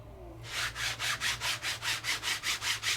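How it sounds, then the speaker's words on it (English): Rhythmic back-and-forth rubbing of paper over an inked gel press plate, about a dozen even strokes, close and steady with no talking. "Rub, rub, rub."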